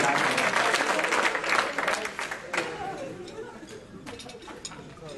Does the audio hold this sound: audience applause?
yes